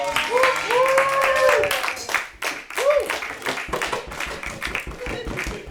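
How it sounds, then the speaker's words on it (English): Small audience clapping and applauding at the end of a show, a steady patter of hands near and moderately loud, with voices calling out over it. "Give yourself a round of applause."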